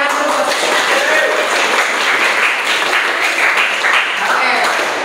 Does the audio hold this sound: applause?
yes